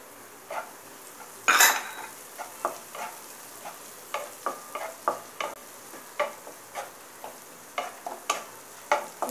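Chopped onion and tomato are stirred in a pan over low to medium flame for prawn masala, giving a soft steady sizzle broken by regular spatula scrapes and one sharp hissing burst early on.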